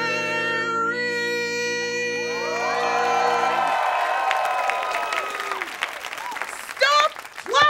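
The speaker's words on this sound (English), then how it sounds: "Stop clapping." A studio audience claps and whoops during a loud librarian comedy sketch, first under a held, sung-sounding voice, then rising into loose cheering and scattered shouts that swell again near the end.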